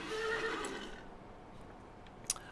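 Horse neighing in the Kings Bounty 2 video game: a clear, fairly loud whinny lasting about a second, fading into quiet ambience with a brief sharp click near the end.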